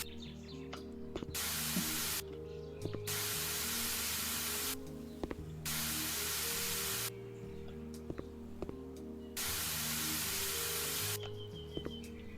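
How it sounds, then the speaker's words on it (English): In the House Flipper game, a water spray hisses in four long bursts of about two seconds each as plants are watered. Soft game ambience with faint chirps plays between the bursts. "I really like the way that the water spray takes in the next plant when you plant them close enough."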